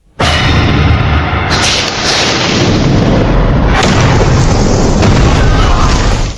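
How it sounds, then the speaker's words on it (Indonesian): A huge, loud explosion booms and roars continuously, with repeated blasts and crackling debris layered through the rumble. "Akibat ledakan itu, anak buah Xiu Ji habis tak tersisa"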